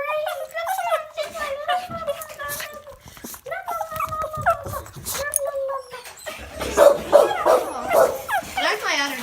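Several dogs barking, yipping and whimpering in bursts, close and fairly loud, with shrill high whines between the barks and a person's voice heard at times.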